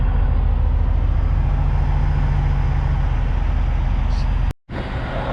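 A Kaz Trucking truck hauling crusher material rolls closer with a steady, heavy diesel drone, loud and near, with a brief dropout near the end.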